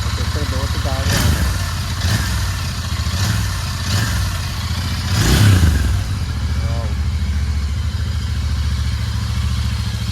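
Royal Enfield Interceptor 650 idling on its stock exhaust, a steady, even low thrum held throughout with a few slight swells, while someone talks over it.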